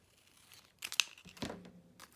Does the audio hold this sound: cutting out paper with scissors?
yes